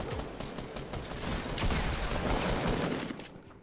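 Gunfire in the video game Fortnite Battle Royale Season 7, a dense, continuous barrage of rapid overlapping shots that swells in the middle and fades slightly toward the end.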